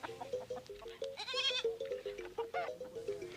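Goats in a Baoulé village in Ivory Coast give a run of short wavering bleats, one louder drawn-out cry in the middle, nearby over a faint ambient background.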